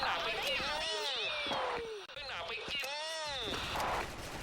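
Gunfire from a shooter video game, sharp shots from an FN FAL rifle scattered under steady, excited talking.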